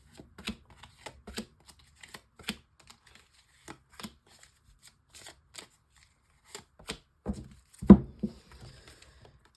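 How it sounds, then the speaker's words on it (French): A deck of tarot cards is shuffled by hand in short dry bursts of riffling and tapping, close and quiet, with pauses between handfuls and no talk. "Alors, tirage en 9 cartes."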